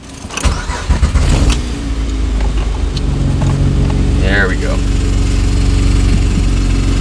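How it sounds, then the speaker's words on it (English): Acura TL engine starting up after a supercharger install, with a few cranking bursts settling into a steady, loud idle that runs to the end, and someone speaking briefly near the start. "And then we can start the car back up."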